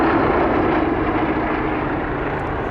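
Radial Bristol Mercury engines on a Bristol Blenheim and Gloster Gladiator at the 1996 Duxford airshow drone with a smooth, steady roar, loud and close with no talk.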